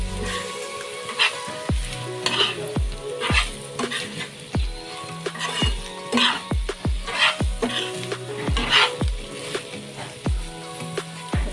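Besan bhindi with potato frying in a pan, a constant sizzle broken by regular spoon scrapes and taps every second or so as the vegetables are stirred, close and fairly loud, no talking.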